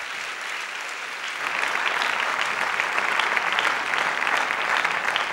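Applause from a large audience at a civic lecture festival swells after a quiet start into a dense, even roar of clapping that holds steadily to the end, full and moderately loud.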